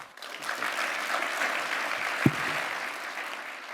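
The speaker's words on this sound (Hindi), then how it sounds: "डावोस में जैसे ही कनाडा के प्रधानमंत्री का भाषण समाप्त हुआ, लोग खड़े होकर तालियां बजाने लगे" A standing crowd at Davos applauds after Canadian Prime Minister Mark Carney's speech, a loud, sustained, even roar of many hands clapping throughout, with one sharp knock partway through.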